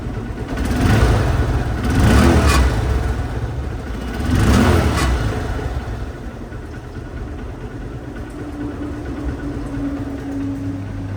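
Honda CB Trigger motorcycle engine running, with a few throttle blips rising and falling before it settles to a smooth steady idle, heard close and moderately loud.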